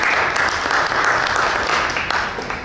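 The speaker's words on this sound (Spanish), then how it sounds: "Un aplauso, por favor, para Luis Carlos." Steady, dense applause from an audience at a literary horror gathering for Luis Carlos, filling the room evenly for a few seconds before thinning slightly at the end.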